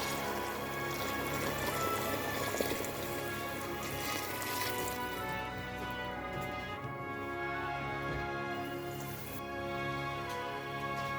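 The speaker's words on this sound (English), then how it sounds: "And now I'm gonna add boiled water." Boiled water pouring into a pot of couscous with tomato paste, a soft steady splashing and trickling that runs quietly throughout, close by with no talk.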